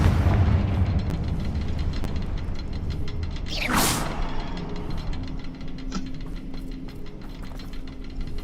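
Confringo explosive spell in Hogwarts Legacy, a single sharp whooshing blast midway through, set against a continuous rumbling game ambience with small clicks and ticks around it.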